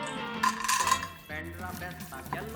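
Cashew nuts and raisins sizzle in ghee in a pan, with a spoon clinking and stirring against the metal over a steady soft frying hiss.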